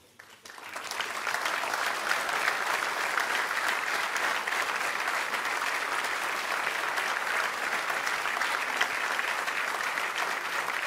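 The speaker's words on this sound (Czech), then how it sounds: "Tenhle potlesk" Applause at the Anděl music awards ceremony: after a brief quiet start, a large audience breaks into loud, sustained clapping that holds steady and unbroken to the end.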